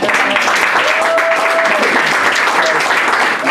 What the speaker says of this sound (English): Give the ladies a round of applause.